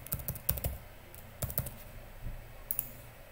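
Password being typed on a computer keyboard, with bursts of clicky keystrokes in short clusters and pauses between them, close and moderately loud with no talking.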